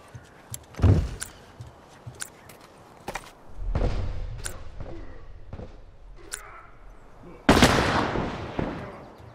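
Rifle gunfire in a shooter game set at a bus depot, sharp separate shots spaced irregularly with a loud burst near the end and a mechanical rumble between shots.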